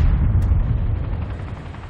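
Booming gunfire from the video game Arma 2, a heavy low rumbling volley that fades slightly over two seconds, with no talk.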